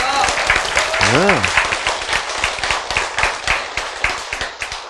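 Audience applause in a Korean lecture hall: many hands clapping loudly and steadily throughout, with a speaker's voice briefly heard over the clapping.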